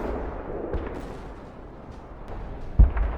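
Tank cannon fire in the video game Arms Trade Tycoon Tanks: a sharp, heavy boom with a short rumbling tail near the end, over a steady bed of noisy battlefield ambience.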